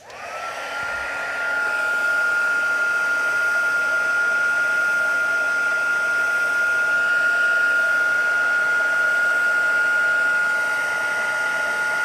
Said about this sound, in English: All right, we're gonna do the heat tool.